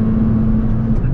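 A 2.0 car, a Hyundai i30 or Opel Astra, accelerates hard uphill at the top of third gear, a loud, steady, droning engine note held close and constant.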